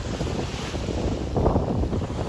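Sea waves wash against the shore under heavy wind buffeting the microphone, a continuous loud rushing with a swell of surf near the middle.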